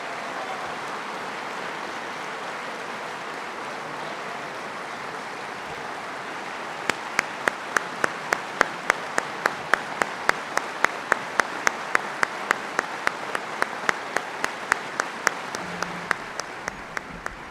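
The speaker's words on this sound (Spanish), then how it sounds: "la gente, se ha puesto de pie para este aplauso que recibe Lenin Moreno al momento en la mesa principal de la sala de sesiones del Palacio Legislativo" A seated crowd in the National Assembly session hall gives a standing ovation. Murmuring room noise comes first, then sustained applause, later joined by a rhythmic run of sharp, loud, unison claps.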